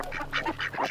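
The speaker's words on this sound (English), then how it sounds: "we got some hens joining" Farm hens give a quick run of four or five nasal, clucking calls close by, each call short and choppy, with no talk over them.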